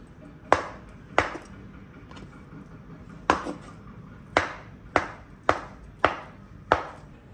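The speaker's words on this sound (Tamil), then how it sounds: "அதை பொடியாக நறுக்கிக்கோங்க." A knife chops paneer into small pieces on a board, eight sharp, close chopping knocks at uneven intervals with quiet gaps between them.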